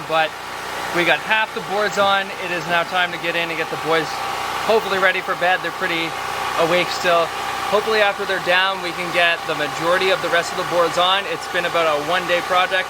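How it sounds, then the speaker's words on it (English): A generator runs steadily in the background at an off-grid trailer site, a continuous mid-pitched engine drone heard under someone speaking throughout. "I don't know if you can hear me well because of the generator in the background"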